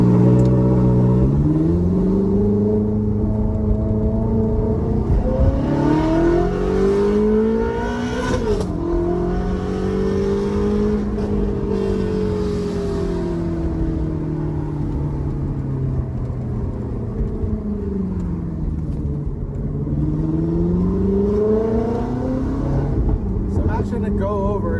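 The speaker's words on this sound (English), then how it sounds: "do a couple pulls, drive, so you guys can actually hear this thing sing" Ferrari F430 engine revving hard through acceleration pulls toward its 8,500 RPM limit, a loud sustained howl rising and falling in pitch across several gear changes, heard from inside the car.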